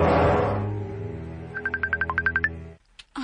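A cellphone ringtone plays a quick run of bright repeated electronic beeps over a sustained low tonal backdrop, then cuts off abruptly into near silence.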